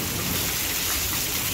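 Rain falls outdoors in the countryside, a steady hiss of drops hitting surfaces at moderate level, even and continuous throughout without speech.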